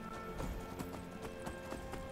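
Steady clip-clop of horse hooves climbing a steep mountain path in Skyrim, an even rhythmic series of close hoofbeats over soft game ambience with no talking.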